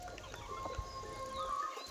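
Hens in a village yard cluck softly and steadily at a moderate distance, a low continuous murmur of fowl.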